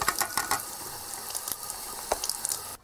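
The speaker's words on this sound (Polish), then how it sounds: "Cały moduł myjemy." Running water splashes and trickles continuously over a VW/Audi car control module (BCM) being washed for repair, with occasional clicks and light knocks mixed in, fairly close.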